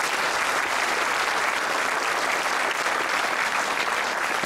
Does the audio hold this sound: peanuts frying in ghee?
no